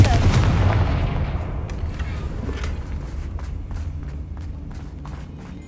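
A Confringo blasting spell explodes in Hogwarts Legacy with a loud, close boom at the start that decays into a long rumbling tail, with faint steps and clicks following.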